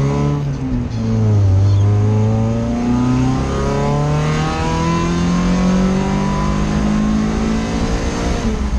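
A naturally aspirated Mazda Miata with a new aftermarket exhaust header roars close by at full throttle, rising in pitch as it accelerates through gears, loud and throaty with a steady exhaust drone.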